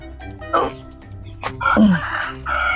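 A chicken clucks a few times in short, uneven bursts close by, over a low background hum.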